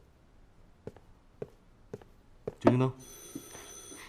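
A telephone rings in a series of short, evenly spaced trills indoors, followed by a louder burst; a person speaks briefly over the ringing.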